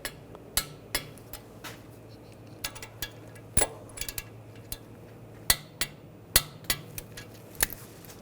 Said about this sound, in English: And torque these to 22 foot-pounds.